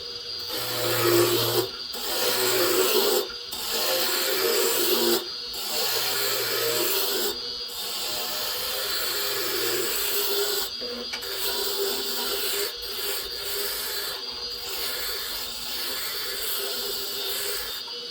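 A spindle roughing gouge cuts a wood blank spinning on a lathe, giving a steady, close, hissing rasp broken by several short pauses and a faint intermittent hum.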